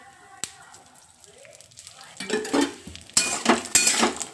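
Coconut and whole spices sauté in oil in a pan, starting quiet with a few clinks, then a spatula scrapes and stirs in rhythmic strokes over a rising sizzle, with a voice talking.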